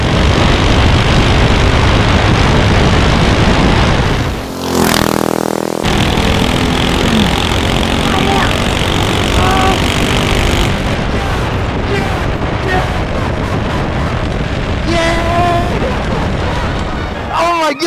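A motorized stroller engine runs at full throttle, a loud, continuous buzzing roar with a brief dip and recovery, then sustained high revs throughout.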